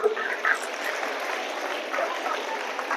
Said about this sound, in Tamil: நல்லா கைத்தட்டுங்க அந்த பையனுக்கு